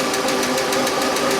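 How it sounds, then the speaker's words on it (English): A car engine with noisy hydraulic lifters runs at raised RPM after a little gas, giving a loud, steady droning hum with a fast rhythmic ticking pulse throughout. "I'm going to give the engine a little bit of gas."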